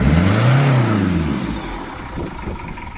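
A rusty Citroen BX engine revs up in a quick blip, the pitch rising and falling, then settles back to a low, rough idle that drags down unless blipped.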